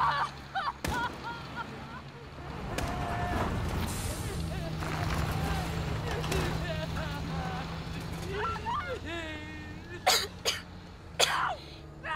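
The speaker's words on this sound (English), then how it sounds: "Coughing." Coughing by a character in the video game Call of Duty: Modern Warfare, a few rough coughs amid background game ambience, with sharper bursts near the end.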